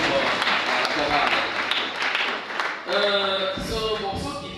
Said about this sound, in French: Applaudissons fort pour la chorale.